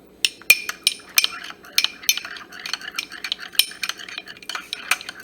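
A spoon stirs cocoa butter and coconut oil together in a small bowl, giving quick, close scraping clicks and light clinks in an irregular rhythm, with no voices.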